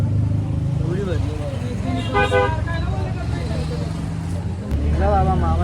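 A crowded auto rickshaw runs with a continuous low engine drone while people talk inside, and a horn toots nearby in traffic.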